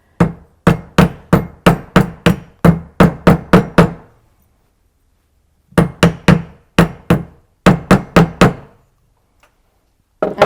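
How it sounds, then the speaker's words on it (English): A rawhide mallet strikes a silver jewelry piece to straighten it, delivering rapid bursts of sharp, close knocks, about a dozen blows, then a pause and two more quick runs of taps. "I'm just going to use my rawhide mallet to straighten it out."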